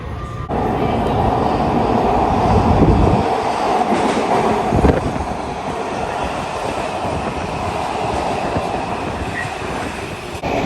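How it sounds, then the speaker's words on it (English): A metro train pulls into a Washington, D.C. station bound for Farragut North, rumbling and clattering loudly and steadily, with a brief squeal and a clunk partway through. "this here's our train"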